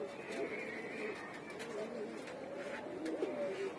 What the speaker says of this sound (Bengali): এই যে কবুতরগুলো